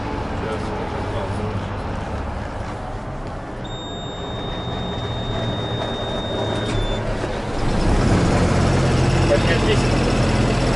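A Tecnoma agricultural sprayer's engine idles with a steady low rumble, a thin whine rising over it midway, then swells louder near the end while people talk nearby.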